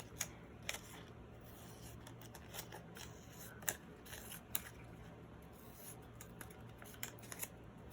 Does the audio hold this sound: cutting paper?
yes